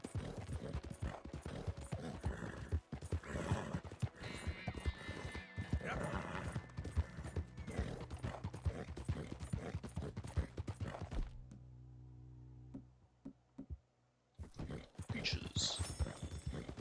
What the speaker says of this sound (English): if your horse sort of makes a noise